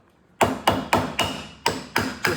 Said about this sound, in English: This is just a little rubber hammer here I use for setups.